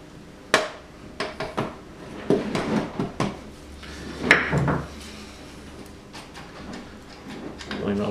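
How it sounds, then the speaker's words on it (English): Hammer blows knocking pistons out of a Jaguar E-Type Series II engine block in a workshop rebuild, a series of sharp irregular knocks and metallic clunks, close and fairly loud, with shuffling between strikes. "Removing the last nut from the big ends will allow us now to knock all of the pistons through."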